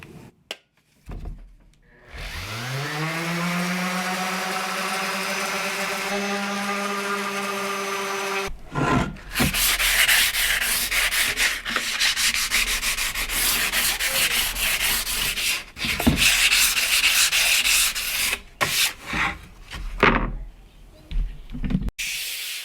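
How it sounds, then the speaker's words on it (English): Hand sanding of wooden RV cabinet surfaces with 150 and then 220 grit sandpaper, a steady close scratchy rubbing that runs continuously, broken by brief pauses and shifts in stroke. "I'm going to do 2 more grits. I'll do 150 and 220"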